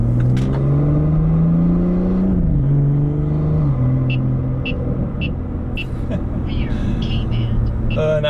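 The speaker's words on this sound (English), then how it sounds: "not only are the shifts lightning fast and the downshifts, because of that, it makes it smoother" A BMW F30 with a B58 engine and XHP transmission tune accelerates, engine note rising then dropping sharply as quick gear shifts land, a steady close drone continuing under someone talking.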